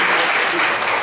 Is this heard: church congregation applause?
yes